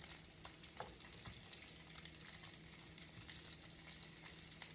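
Onions sizzle steadily in a pan of pork chop gravy with butter, a continuous close frying hiss with small crackles throughout and no talking.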